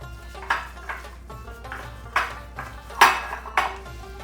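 Chicken pieces with salt, garam masala and a little oil being mixed in a bowl for chicken tikka pasta, with several separate clinks and scrapes of a spoon against the bowl, close and moderately loud with no speech.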